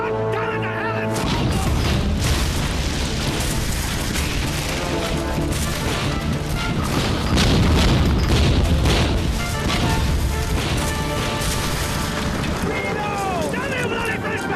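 Cannon fire and battle noise aboard a sailing warship in a period naval drama, heavy booms and crashes under shouting voices, loud and continuous with a swelling musical score.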